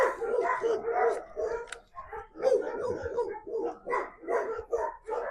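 A dog barking repeatedly nearby during an outdoor walk, a string of loud rhythmic barks and yips that continue steadily throughout.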